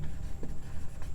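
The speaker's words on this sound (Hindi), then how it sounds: "लिखेंगे" A pen scratches across paper while a Class 10 maths exercise is solved, a few quiet short strokes in quick succession with no talking.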